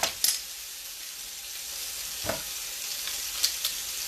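Garlic and vegetables sizzle in a cast iron skillet with a steady, bright frying hiss, punctuated by a few sharp clicks and taps of a utensil against the pan.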